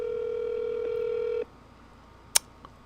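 A steady telephone dial tone holds for about a second and a half, then cuts off and the line goes quiet, followed by a single sharp click and a fainter second tap.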